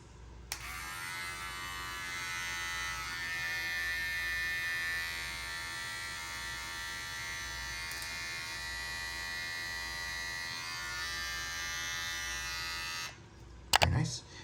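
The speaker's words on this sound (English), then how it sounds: "So we'll go ahead and turn this on." A Remington WETech groomer kit electric shaver switches on with a click and hums at a steady, close, high-pitched buzz for about twelve seconds, then cuts off, followed by a short clatter of handling.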